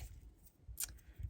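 Scissors snipping card stock pieces for a handmade monochromatic starburst card, a couple of brief close cuts in a quiet room.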